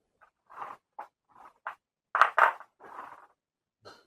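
Bolts going onto a motorcycle front fender with lock washers, heard as a string of short close scraping and clicking bursts, a few louder rattly clanks near the middle, spaced by brief pauses.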